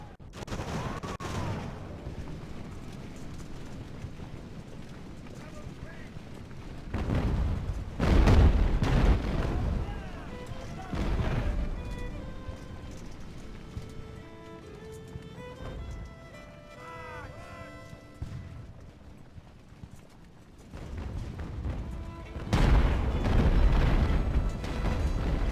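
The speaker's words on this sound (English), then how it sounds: "Oh, my ships are shooting at him." Deep booming cannon broadsides from sailing warships in Ultimate Admiral: Age of Sail, heavy rolling volleys in clustered bursts separated by quieter gaps, with a voice talking between them.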